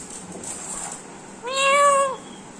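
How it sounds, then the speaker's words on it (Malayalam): A cat gives a single clear, drawn-out meow of moderate loudness, about a second long, heard alone over a faint steady background hiss. "പൂച്ച വന്നു"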